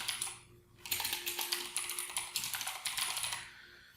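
Rapid typing on a computer keyboard while entering property names into an Excel sort list, a steady run of close, crisp key clicks after a brief pause, with no talk.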